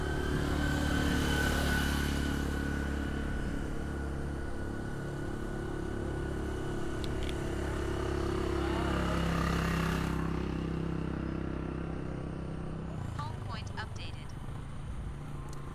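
Steady low rumble of passing vehicles, with engines swelling and fading nearby throughout, under a continuous background din.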